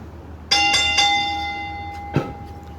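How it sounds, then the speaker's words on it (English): A metal bell rings sharply to start a backyard wrestling handicap match: three quick strikes with a ringing tail, then a fourth hit a moment later, fairly close and clear. "Ring the bell."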